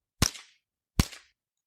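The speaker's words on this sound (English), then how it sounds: "That right there, that's a 22 rifle." A .22 rifle fires twice, each a sharp, snappy crack with a quick tail, about three quarters of a second apart. The shots are loud and alone over silence.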